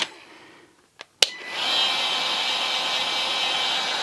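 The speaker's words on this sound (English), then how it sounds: "this way that Milwaukee's got their heat gun working is a pain" Milwaukee heat gun switched on after a couple of short clicks, then a steady, close whooshing blower hiss that holds evenly to the end.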